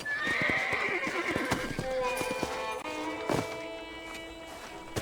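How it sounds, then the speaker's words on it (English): Hooves clop along while a horse whinnies loudly in Red Dead Redemption, followed by a few snorts and softer steps, fairly close. "Let's hitch our horse to the post."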